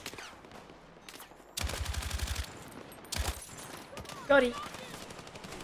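LMG gunfire in Battlefield 6, heard as two sharp rapid bursts of automatic fire, one long and one short, loud against quieter game ambience, with a brief spoken remark near the end.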